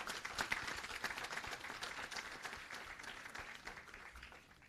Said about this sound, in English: Can I get a round of applause for these persons?